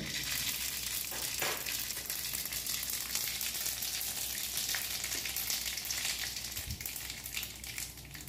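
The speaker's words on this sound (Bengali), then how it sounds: "এখন দিয়ে দিচ্ছি কালো সর্ষে ফোড়ন।" Black mustard seeds and a halved dried red chili crackle in hot oil in a pan for a Bengali crab and tamarind curry. A continuous, even sizzle runs at moderate volume throughout, with no voices over it.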